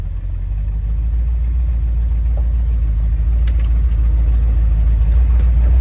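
A Plymouth SUV engine runs with a loud, steady low-frequency rumble close to the microphone, holding an even idle throughout.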